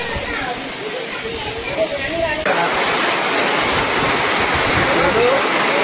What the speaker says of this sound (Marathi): तर हा आहे हत्ती पाऊस आणि तुम्ही बघू शकता माझ्या मागे पण पाऊस पडतोय